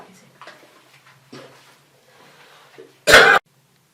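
A single sharp, loud cough close to the microphone near the end, after a few quiet murmurs and faint movement sounds.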